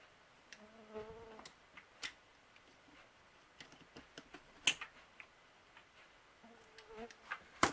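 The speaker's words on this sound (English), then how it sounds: "Yikes, mosquitoes out in force." Faint mosquitoes buzzing outdoors in warm weather, heard as brief thin whines that drift in and out, along with scattered soft ticks against a quiet background.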